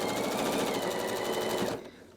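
A sewing machine stitches quilt squares together in a chain, running at a steady, close, rapid rattle that stops abruptly near the end.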